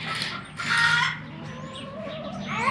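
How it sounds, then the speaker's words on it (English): Chickens cluck and call at a farm market, a steady mix of fowl sounds at moderate distance with other animals around and no talk. "Okay, so we got chickens"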